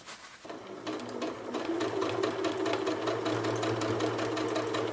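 A sewing machine runs steadily for several seconds while back stitching bias tape onto a garment, a close, continuous mechanical whir with a rapid needle rhythm after a brief quiet start.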